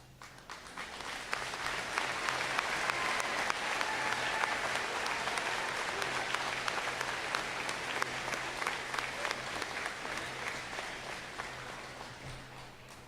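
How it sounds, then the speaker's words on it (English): Sustained audience applause at a 2024 high school commencement ceremony, steady and full for about twelve seconds before tapering slightly at the end, with no talking over it. "would you please stand and be recognized with a round of applause"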